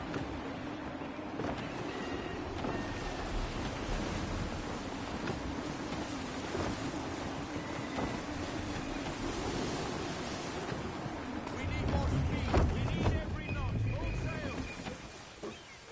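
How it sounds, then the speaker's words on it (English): Gusty wind sweeps across open sea in Assassin's Creed III, with rushing surf and waves around a sailing ship, a steady roar that swells louder near the end as a voice talks over it. "Wind looks to be shifting. Stay alert, Connor. Gusty winds can be difficult to manage."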